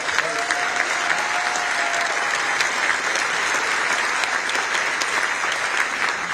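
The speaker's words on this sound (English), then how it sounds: "we could give them a round of applause" Crowd applause at a gubernatorial candidate forum in central Illinois, honoring law enforcement officers and veterans, a steady wash of clapping from a large room with faint voices underneath.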